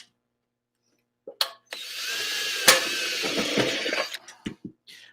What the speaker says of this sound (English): I'm drilling.